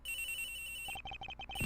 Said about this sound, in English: It's gotta be the victim's cell phone.